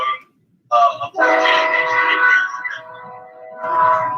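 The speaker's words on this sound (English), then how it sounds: "You getting on the train, or is it just passing by?" A train horn blares in long sustained tones, loud and nearby, with a short gap after an opening blast and a second swell at the end, while a passing train rumbles faintly underneath.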